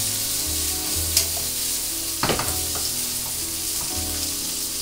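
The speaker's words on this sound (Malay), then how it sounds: "So saya akan goreng dia ataupun goreng lah ya." Fish sizzles steadily in a hot pan, with a few sharp clatters and stirring scrapes partway through, close and clear.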